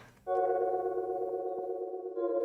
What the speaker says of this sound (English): we have this right here, which is Valhalla frequency echo. If I enable it, it gives a crazy vibe to your sounds.